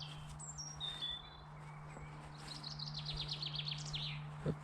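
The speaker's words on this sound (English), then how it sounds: "We've got lovely bird song all around me." Blackbirds and robins sing and chirp in the open air, with a run of bright, rapid high notes and a few scattered calls over a steady low hum.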